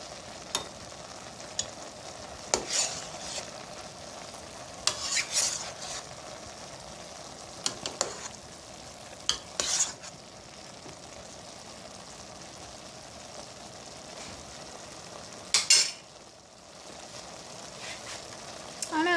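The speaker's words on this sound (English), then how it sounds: "I love the sound of just simmering food" Sautéed vegetables for a hummus dish sizzle steadily in a pan, close and moderately loud. Sharp scraping bursts from stirring break in every few seconds.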